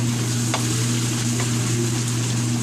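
Onion and garlic fry in a pan for a budget carbonara, a steady close sizzle with a few faint pops, alone and continuous throughout.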